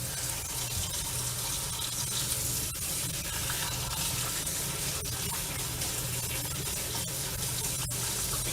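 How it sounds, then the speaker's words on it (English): Cold tap water pours steadily over cooked potatoes in a kitchen sink, a dense continuous hiss and splatter with occasional small knocks, close and unbroken, no talking. "run them under cold water for as long as you cooked them"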